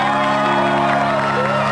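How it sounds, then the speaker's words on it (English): An audience at a DIY concert cheers and whoops in a loud, dense crowd roar, with shouting layered over steady applause. "A huge round of applause for Therese for organizing this amazing event."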